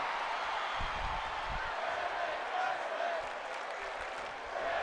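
Crowd cheering and applauding in a wrestling video game, a steady, fairly distant wash of clapping and crowd noise with commentary voices over it.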